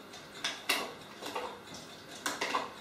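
Utensils clink against a bowl while fresh dill is mixed into a shrimp, chickpea, arugula and mango salad, giving a few light, irregular scrapes and taps close by with no talk.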